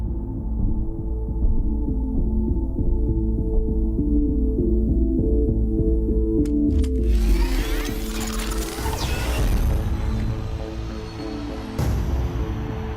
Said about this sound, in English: Check out this music drop when Sam Flynn first switches on the light cycle.